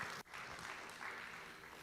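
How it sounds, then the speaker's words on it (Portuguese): A church congregation applauding during a worship service, a steady wash of clapping that fills the space for about two seconds after a brief dip at the start. "Aplauda o nome de Jesus."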